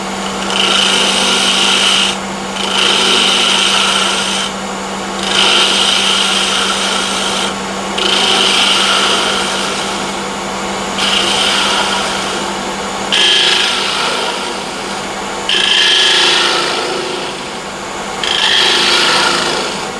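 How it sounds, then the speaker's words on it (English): A sharp gouge takes light cuts on hornbeam spinning on a wood lathe, giving a steady, close scraping hiss in repeated passes of about two seconds, each separated by a brief pause, over the constant hum of the lathe motor. "sharp gouge, light cuts"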